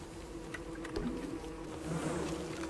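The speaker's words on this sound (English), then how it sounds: "The bees are being mean to me!" Bees buzzing in the video game Don't Starve Shipwrecked, a steady, close insect drone with a swarming, wavering quality, continuous and fairly quiet, with no voice over it.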